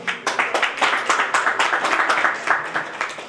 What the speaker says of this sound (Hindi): एक बार फिर जोरदार ताली